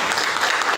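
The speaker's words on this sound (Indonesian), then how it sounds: "Kasih aplaus." Audience applause in a classroom lesson, a steady dense patter of clapping hands from a group filling the short moment without any talk.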